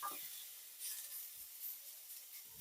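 Ground meat for a spaghetti meat sauce sizzles quietly in a pan with a steady airy hiss, broken by a few soft scrapes and stirs of the utensil.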